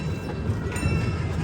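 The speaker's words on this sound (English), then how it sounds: "It's quite a slow train, but it's cute, and it's a nice little way to get around the park." A slow, small theme park train rolling around Europa-Park in Germany, giving a steady, continuous low rumble close by with no talk over it.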